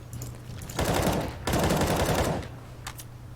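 AK rifle fire in a Counter-Strike match: two rapid, loud bursts of automatic gunfire, each lasting under a second with a brief gap between, followed by a couple of faint distant shots.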